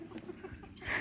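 A rooster gives a short, soft cluck in a farmyard poultry setting, heard close and brief against low background noise.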